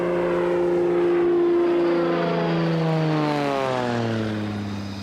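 A propeller airplane drones loudly and close in flight, its engine tone holding steady and then sliding lower as it fades slightly near the end.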